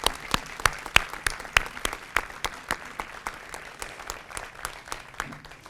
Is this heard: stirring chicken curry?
no